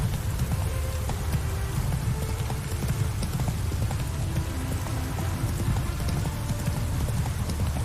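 Horse hooves galloping in The Witcher 3 pound out a fast, continuous clip-clop, loud and close, with a rain-like patter underneath.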